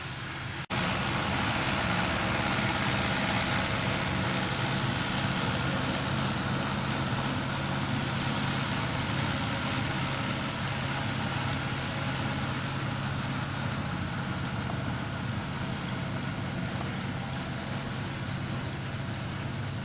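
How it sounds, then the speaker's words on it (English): A tractor mowing hay in open fields gives off a steady, continuous engine drone, a broad rumbling roar that holds at an even level for the whole stretch. "the tractor in the fields mowing the hay"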